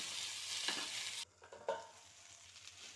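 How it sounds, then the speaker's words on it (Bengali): Potatoes and tomato fry in a pan with a soft, steady sizzle that suddenly drops quieter, while a few spatula strokes scrape and stir through the mixture. "আবারও আমি ভালো করে ভেজে নেব আলুগুলো।"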